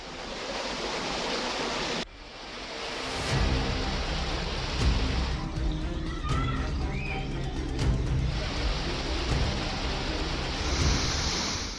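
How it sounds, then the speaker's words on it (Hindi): Heavy rain pours during flooding, giving a dense, continuous roar of falling water that fills the whole clip, with a short break in intensity near the start. "भारी बारिश में डूबे राजस्थान के शहर, सड़कों पर बहते सैलाब की रफ्तार"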